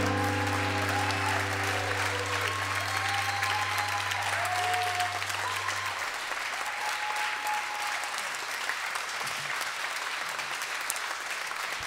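A crowd claps steadily and loudly after a performance at a music talent contest, a long continuous wash of applause while a sustained musical chord fades out beneath it partway through.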